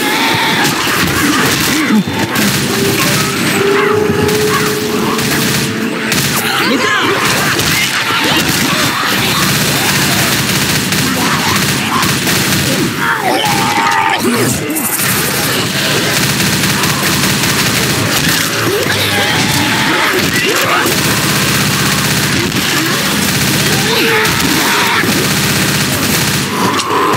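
Continuous heavy gunfire in Left 4 Dead's Blood Harvest woods level, rapid automatic bursts and shotgun blasts layered with crashes and zombie screams, loud and dense throughout.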